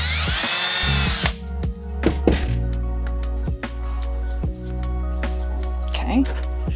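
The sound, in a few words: power drill drilling a starter hole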